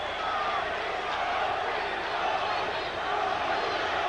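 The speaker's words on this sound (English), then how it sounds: "Crowd chanting, Tony," Boxing arena crowd at a Rocky Lockridge versus Tony Lopez fight chanting for Tony, a loud sustained roar of many voices filling the hall for the whole stretch.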